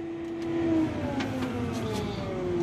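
A Cat 988K wheel loader's engine holds at full throttle, a steady loud drone with a strong sustained tone that stays constant across the stretch, no voices over it.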